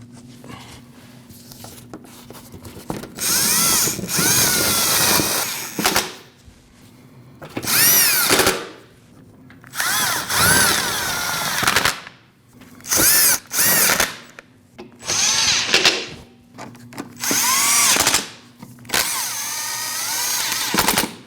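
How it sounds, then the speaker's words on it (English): Power tool running in repeated bursts while driving 10mm bolts into the belly pan of a Jeep Cherokee, about six whirring spurts of rising pitch separated by short pauses, close and loud. "install your belly pan with those 9 10mm bolts"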